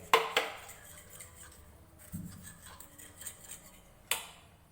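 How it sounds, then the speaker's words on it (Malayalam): Egg fry ingredients, including onion, being mixed in a bowl: a few sharp clinks of a spoon against the bowl, one at the start and another near the end, with soft handling noise and a dull knock in between. "ഇതെല്ലാം നല്ലപോലെ ഒന്ന് മിക്സ് ചെയ്യാം"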